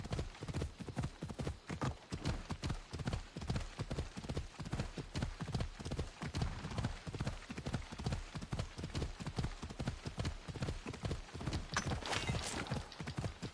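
Horse hooves clip-clop at a steady trot in Assassin's Creed Odyssey, a continuous rhythmic stream of quick hoofbeats that stays moderately quiet and varies slightly in pace, with rain falling behind it.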